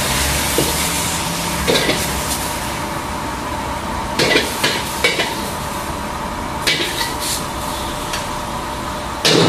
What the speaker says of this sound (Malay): kemudian kita tumis bagi dia kering